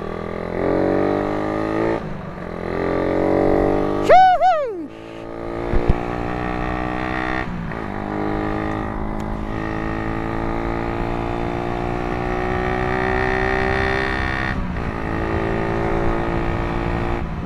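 A carbureted Suzuki Raider 150 motorcycle with a 45-tooth rear sprocket drones steadily up close as the throttle is worked, its rich buzzing tone broken by a brief descending whine and a few dips and blips, with no talking.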